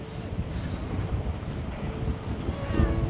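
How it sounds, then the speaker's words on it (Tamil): Strong wind buffets the microphone at a fog-covered mountain viewpoint in Kerala, a steady rushing roar with gusts swelling toward the end, heard on its own without talk. "தள்ளுது காற்று."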